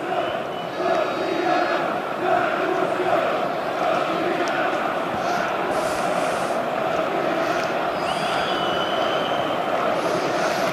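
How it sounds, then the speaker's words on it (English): Steady murmur of a sparse crowd fills a huge European football stadium during a Barcelona–Levante match, a continuous, fairly loud wash of distant voices and chatter with faint higher calls and whistles on top. "Sparse crowd here"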